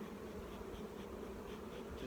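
Many honeybees hum around their hives in a steady, dense buzz, close by and unbroken, with no voices.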